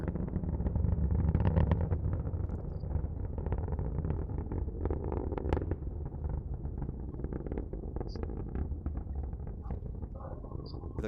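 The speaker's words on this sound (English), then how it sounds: "Merlin engines should be throttling down now as the vehicle approaches max Q" SpaceX Falcon 9 rocket with Merlin engines in flight approaching max Q during a Starlink launch from SLC-40, a continuous loud low roar and rumble with crackling texture, steady throughout.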